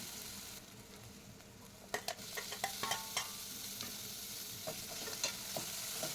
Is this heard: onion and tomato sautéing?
yes